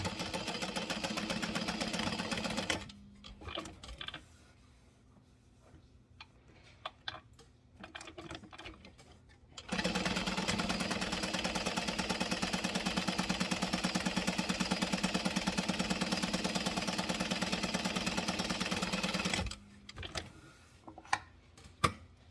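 A sewing machine runs in two long steady stretches, stitching a 3/8-inch seam allowance, its rapid even whir close and loud, with quieter handling noises in the pause between runs.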